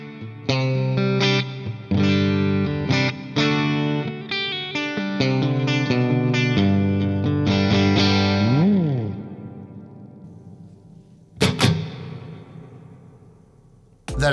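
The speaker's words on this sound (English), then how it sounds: "That is a lovely sounding reverb too." Electric guitar chords ring out through a Laney LA-Studio Supergroup tube amp, drenched in lush reverb, with a sliding note and a long wet decay trailing into a final strum.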